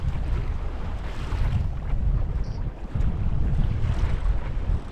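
A sailboat moving at about 3.5 knots on Lake Ontario, with a steady roar of wind across the microphone mixed with rushing water against the hull. The sound is continuous and loud, and no one speaks.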